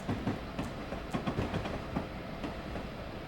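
An Amtrak ACS-64 electric locomotive in Train Simulator 2019, running at night on the New York to New Haven line, with a steady rolling rumble and rhythmic wheel clicks over rail joints.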